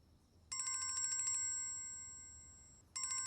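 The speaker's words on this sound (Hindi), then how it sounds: "किसका फोन आ गया?" A phone's electronic ringtone trills loudly and nearby, rings once with a fading tail, then starts ringing again.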